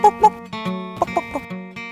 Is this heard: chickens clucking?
yes